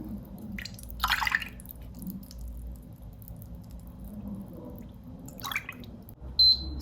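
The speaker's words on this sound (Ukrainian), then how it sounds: "І тепер додаю в ківш літр бульйону." A litre of broth is poured into a ladle pot in a home kitchen, heard as a wet dripping, splashing trickle with a louder burst near the start and another later, without talk.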